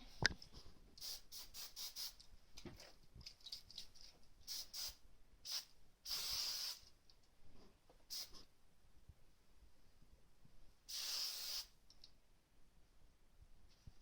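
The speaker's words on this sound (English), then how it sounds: "And let's give her a little spray." Short hissing bursts of an aerosol spray, two longer sprays among quick puffs and light clicks, close and fairly quiet.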